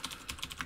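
Quick keystrokes on a computer keyboard, a handful of light clicks in an uneven rhythm, close and fairly quiet.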